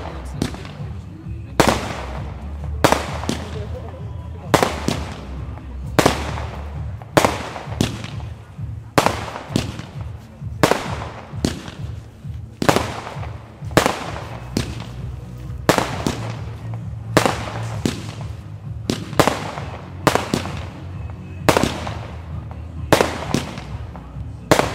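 A rapid series of loud shots from a Nico 'Der Klopper' 50-shot firework battery booms out one after another at a steady pace, each sharp crack followed by a short rumble.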